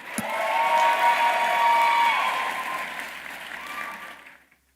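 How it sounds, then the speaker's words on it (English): A high school graduation audience applauds for a graduate, a steady wash of clapping with a few cheers that swells, holds for several seconds and then tapers off to silence. "A round of applause for Donjanae, please."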